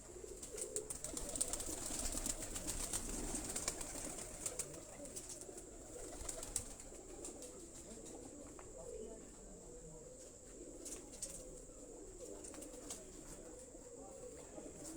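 Migratory pigeons kept at home coo softly and repeatedly in a closed room, a low murmuring bed with bird chatter and faint insect-like hiss, while someone talks over them.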